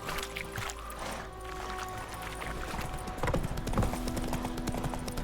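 Horse hooves clip-clop at a steady trot in The Witcher 3 as Geralt rides off, with game ambience underneath and a brief faint voice nearby.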